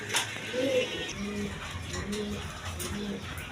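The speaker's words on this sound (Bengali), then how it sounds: "এইখানে এক পেয়ার লাক্ষা কবুতর আছে" A pair of American Lakkha fantail pigeons, glossy black, coo in soft, low repeated phrases against a busy background murmur, fairly faint and close.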